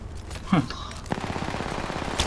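Rapid automatic gunfire in Apex Legends rattles off in a fast, even stream of loud shots, preceded by a brief burst of other game sounds and a voice.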